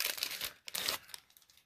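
Foil trading card packs from a 2020 Topps Allen & Ginter blaster box crinkle and rustle as they are shuffled by hand, in two short bursts of crisp, close crackling.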